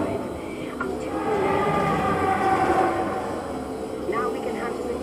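A Spaceship Earth ride vehicle moves through the attraction at EPCOT, giving a steady, continuous rumbling hum with some faint ambient background noise throughout.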